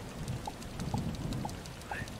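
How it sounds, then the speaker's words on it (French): A rain shower falls on a planet in the game Starbound, a soft continuous patter with evenly spaced light drips chiming over it, faint and steady, with no talk. "il y a une averse sur ma planète"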